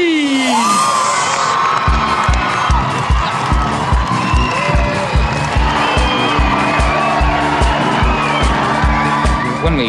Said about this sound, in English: When we came out on our skates, the crowd was just roaring